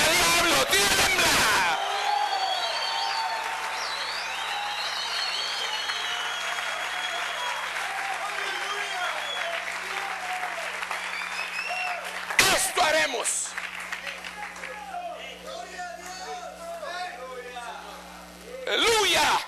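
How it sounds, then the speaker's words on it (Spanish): Loud, sustained applause from a church congregation fills a large hall, with cheering voices and crowd babble mixed in, dipping briefly near the middle before surging again toward the end. "Dale un aplauso bien fuerte al rey"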